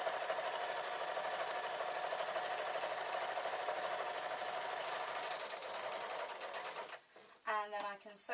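A sewing machine runs steadily through cloth for a tote bag, close and continuous, slowing and stopping near the end with a few brief clicks and a faint voice.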